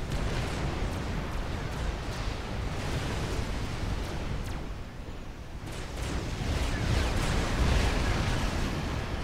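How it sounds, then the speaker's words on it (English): Ravager artillery pieces in a Forged Alliance Forever real-time strategy match fire a sustained barrage, dense booming blasts layered into a continuous rumbling roar with sharper reports poking through. "The ravager opens fire."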